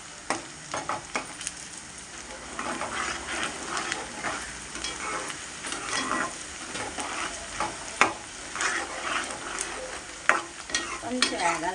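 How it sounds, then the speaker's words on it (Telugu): Raw prawns and onions frying together in a pan for a Telugu-style prawn iguru, with steady sizzling and frequent stirring clicks and scrapes throughout, close and fairly loud, no voices. "పచ్చి రొయ్యలు ఎగురు ఉల్లిపాయలు వేగనిద్దాం ఫ్రెండ్స్"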